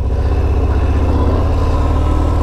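A 2018 Harley-Davidson Fat Bob 114ci motorcycle engine, unmodified, runs with a loud, deep, lumpy low-pitched throb, steady and close, with a slight rise as it begins moving.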